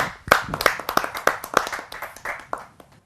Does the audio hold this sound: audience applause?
yes